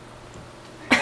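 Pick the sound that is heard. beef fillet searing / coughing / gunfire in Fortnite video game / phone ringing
coughing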